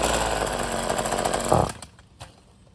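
A five-year-old Tanaka TCB24 two-stroke engine, unprimed, roars loudly up close for a moment and then cuts out abruptly, followed by a few faint clunks.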